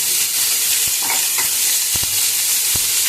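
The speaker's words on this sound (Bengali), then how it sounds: "এবার এর মধ্যে আমি দিয়ে দেবো এই গ্রেট করা আমার এই মালগুলো, লঙ্কা কুচি, ধনে পাতা কুচি আর গাজর ক্যাপসিকাম কুচিয়ে রাখা" Chopped green chilli, coriander leaves, carrot and capsicum stirred in a hot pan, giving a steady bright sizzle with a few soft spoon taps against the pan.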